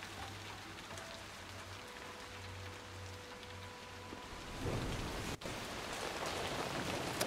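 Steady rain falls in the World War One military hospital game War Hospital, a soft continuous hiss that grows a little heavier toward the end, with faint tones and a hum beneath.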